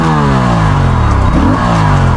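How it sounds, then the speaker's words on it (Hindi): An Aprilia RS 457 motorcycle with an underbelly exhaust revs hard nearby, a loud, sustained engine note that climbs and falls in pitch through a quick throttle blip. "अभी मैं चेक करवाता हूँ इसका अंडरबेली एग्जॉस्ट है"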